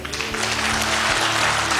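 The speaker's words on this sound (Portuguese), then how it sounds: "Aplauda aí com toda a sua força, vai." A church congregation applauds vigorously during a Brazilian evangelical worship service, producing a dense, steady wall of clapping with a low hum of music beneath.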